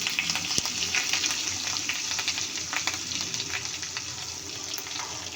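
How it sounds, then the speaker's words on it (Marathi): Ginger and garlic fry in oil as turmeric is added, making a constant crackling sizzle up close with scattered pops and spattering bursts. "तेलामध्ये फ्राय करायचं आता घालूया थोडीशी हळद"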